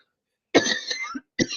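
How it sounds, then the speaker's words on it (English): Two hoarse coughs close up, the first longer and rougher, the second starting after a short pause, with no talking around them. "this cough is driving me crazy"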